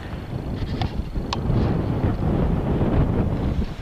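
Strong wind gusting across coastal sand dunes at Walney North End, a steady loud roar buffeting the microphone and blowing sand along, with a couple of brief faint higher tones near the start.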